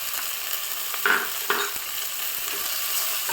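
Green chillies, mint and coriander fry in oil for a mushroom pulao, a steady moderate sizzle with a couple of sharper spatula scrapes and crackles standing out partway through.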